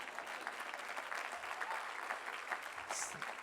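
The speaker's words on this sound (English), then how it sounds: "Yeah, you can clap." Commencement audience applauding, a steady dense wash of clapping from a large crowd that carries on evenly throughout without any talk over it.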